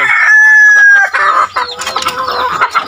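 Chickens in a coop, with a rooster crowing loudly and close for about a second, then hens clucking in a busy, overlapping stream with no talk.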